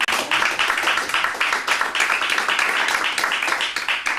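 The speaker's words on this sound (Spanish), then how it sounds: "Le damos un fuerte aplauso a ellos." A church congregation claps steadily together, a dense continuous round of applause with a quick even rhythm, moderately loud and sustained throughout.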